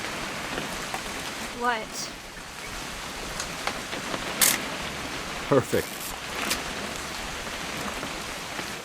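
Steady rain falls in What Remains of Edith Finch, a soft continuous hiss running under short, quiet lines of character dialogue.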